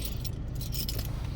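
Car keys for a DS4 jangle and clink close by in a short, faint metallic rattle.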